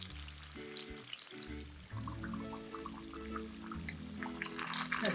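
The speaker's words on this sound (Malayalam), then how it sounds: "ഇപ്പോൾ എണ്ണ നല്ല തിളച്ചിട്ടുണ്ട്." Jackfruit unniyappam fry in hot boiling oil over a medium flame, a soft crackling sizzle with light bubbling pops under a tonal melody that plays throughout.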